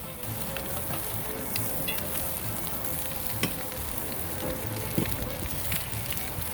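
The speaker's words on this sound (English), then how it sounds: "All right, we're at 750 degrees. Time to sear a steak." Bacon-wrapped ribeye steak searing on a cooking surface at 750 degrees, a dense close roaring sizzle that holds steady throughout with occasional sharper pops.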